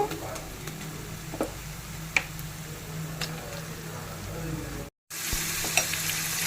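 Chicken sizzles as it goes into a pan of frying onions and curry leaves for a spicy Andhra chicken fry, a steady crackling hiss with scattered pops and ticks and a brief dropout near the end.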